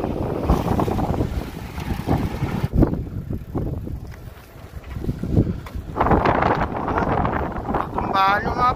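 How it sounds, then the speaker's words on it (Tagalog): Strong wind buffets the microphone in loud, continuous gusts, with a person talking over the roaring rush of air. "ang lakas ng hangin"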